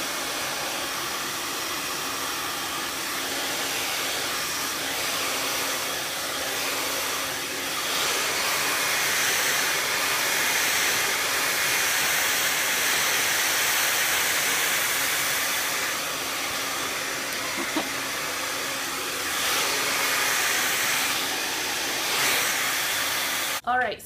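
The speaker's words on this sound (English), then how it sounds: "I'm going to show you guys a really cool tip for blow drying the top." A hair dryer blows steadily while styling the top of the hair for beach waves in a salon, a loud continuous airy roar lasting throughout with small shifts as it moves.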